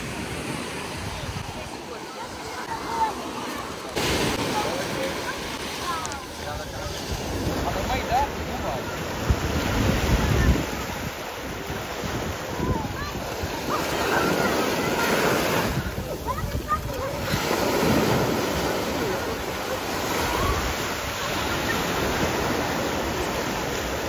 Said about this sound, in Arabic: نروح البحر